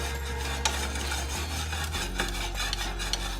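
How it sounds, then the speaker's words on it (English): A spoon scrapes and stirs in a very hot, just-smoking pan for pho, giving soft, steady rubbing strokes with a few sharper clinks over a low continuous hum. "Continue stirring it because the pan is hot"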